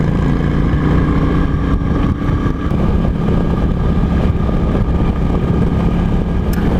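A cruiser motorcycle gives a loud, steady, low engine drone while being ridden, staying close and unbroken throughout with no voices.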